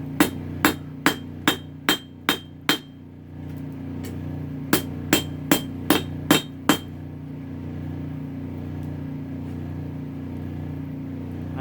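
Hammer blows forge the tapered end of a leather tooling stamp made from a chair cylinder: two bright runs of about seven evenly spaced ringing metallic strikes separated by a short pause, close, over a steady low hum.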